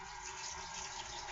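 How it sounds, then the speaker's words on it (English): A potato is rinsed under a running kitchen tap, producing a steady, close hiss and splash of flowing water that continues evenly without any voices. "So now I'm gonna rinse my potato."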